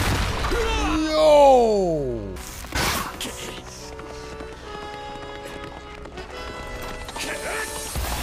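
Galloping horse hooves in an anime battle scene from JoJo's Bizarre Adventure, a quick run of rhythmic thuds mixed with swooping tones, a sharp impact and swelling dramatic music.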